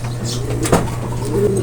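A racing pigeon coos once, a short soft call close by, over a steady low hum and faint background sounds.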